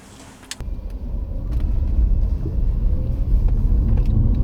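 A car engine rumbles as the vehicle pulls away and keeps driving, with a few clicks and bumps near the start and a steady low road noise.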